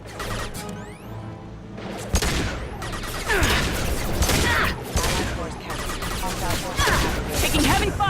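Heavy gunfire in the video game Mass Effect 2, dense bursts of shots and crashing impacts rattling almost continuously, loud and close, with combat voices mixed in.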